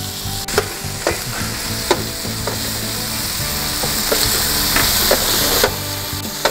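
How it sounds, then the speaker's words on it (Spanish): Artichoke bottoms sautéing in olive oil in a paella pan, a loud continuous sizzle with regular knocks and scrapes of a utensil stirring, close up. "ya salteamos un rato y dejamos ahí que se ajusten los sabores"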